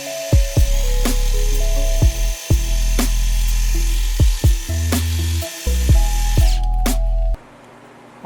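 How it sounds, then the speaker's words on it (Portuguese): Power drill boring a 28 mm deep hole into a polyurethane bump stop for a Jeep Willys suspension, a loud steady whine cut by repeated short stops, bursts and pitch drops before falling silent. "Eu vou fazer um furo com 28 milímetros de profundidade."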